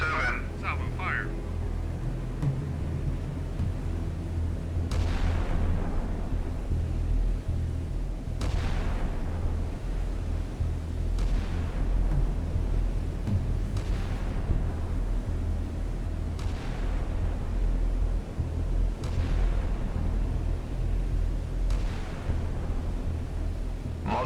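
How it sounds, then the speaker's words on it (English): Naval guns firing salvos in the Sea Power video game, a series of booming shots spaced a few seconds apart over a continuous low rumble, with a voice talking in places. "Salvo fire."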